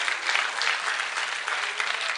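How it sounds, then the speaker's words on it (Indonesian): A church congregation gives sustained, dense applause in praise of Jesus, many hands clapping loudly and evenly for about two seconds with no talk. "Tepuk tangan buat Tuhan Yesus, haleluya."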